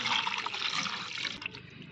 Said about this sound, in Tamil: ஃபஸ்ட்டு ஒரு நார்மல் தண்ணியை ஊற்றி இந்த செதிலெல்லாம் வந்துட்டு க்ளீன் பண்ணி எடுத்துக்கலாம்.